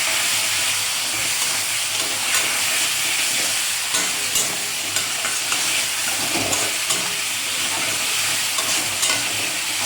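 Spices with turmeric and salt being stirred in a frying pan for an egg curry, a steady close sizzle with scraping spatula strokes throughout, no voices.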